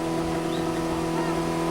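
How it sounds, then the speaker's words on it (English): Formula Ford race cars rev on the starting grid at Amaroo, a steady, continuous engine drone held at a fairly even level throughout. "You can hear the cars revving in the background."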